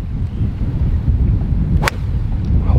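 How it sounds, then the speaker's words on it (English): Heavy wind buffets the microphone on a golf course in a constant low, rumbling roar, loud and close, with a brief sharp crack partway through. "If people can't hear the wind, it's very windy."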